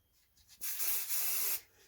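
A spray can hisses in one steady burst of about a second, laying grey primer onto a small scale model part of a Nieuport 17 cowling, propeller or wheel, fairly close and alone.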